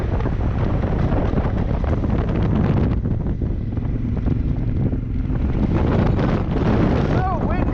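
Strong wind buffets the microphone while riding a Honda Africa Twin motorcycle at speed, a constant loud roar that dips briefly midway, with faint engine hum underneath.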